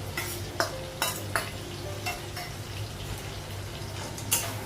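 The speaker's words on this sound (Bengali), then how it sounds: "মশলাগুলো একটু ভেজে নেব সব" Ground cumin, coriander and chilli powder with ginger paste fry in a pan, a low sizzle broken by several sharp scrapes and clinks of a spoon stirring against the metal.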